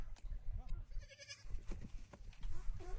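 A goat bleats in a short meme clip, its wavering cries cutting through loud, busy sound with other voices around it.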